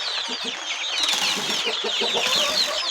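Dense chorus of hens and chicks clucking and chirping close by in the early morning, continuous and busy, with rustling in the background.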